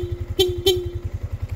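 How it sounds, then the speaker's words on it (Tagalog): The stock horn on a motorcycle with a dual-horn setup gives two short honks close by over the steady, pulsing idle of the engine. "ang busina is stock"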